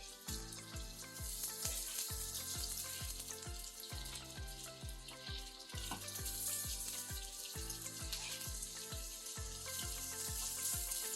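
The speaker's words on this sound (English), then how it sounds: "we're going to fry these down" Spam slices fry in a pan on a stove, a steady crackling sizzle that runs the whole time beneath louder rhythmic background music.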